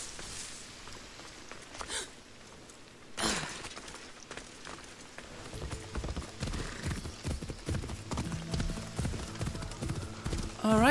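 Horse hooves clip-clopping in Assassin's Creed Odyssey, a steady rhythmic gallop that builds from the middle onward and grows louder toward the end, with game ambience underneath.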